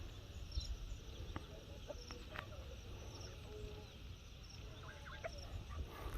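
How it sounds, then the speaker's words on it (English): Chickens on a farm, faint scattered clucks over a low steady outdoor background with a soft insect hum, distant and quiet. "Real chickens."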